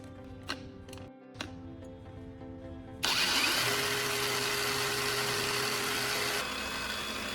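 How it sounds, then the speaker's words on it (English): An angle grinder fitted with a green polishing disc for putting a mirror finish on a knife edge: a few light clicks, then the motor whirs up abruptly and runs at a loud, steady whine to the end. "I'm now putting our green polishing disc back on the angle grinder"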